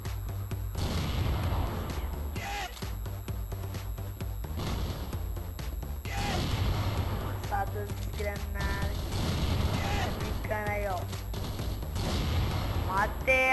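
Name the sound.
grenade explosions and gunfire in the video game Crossfire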